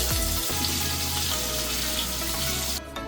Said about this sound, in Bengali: তেলটা গরম হয়ে গেছে, ফুলকপি দিয়ে দিচ্ছি